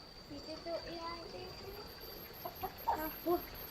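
A rooster clucks in a few short, soft calls in a village yard, partly mixed with quiet voices, with a steady faint hum in the background.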